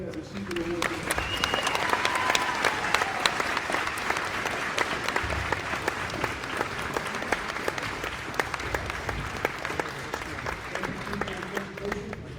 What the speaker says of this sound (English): Let's have a big round of applause for everybody that received the award today.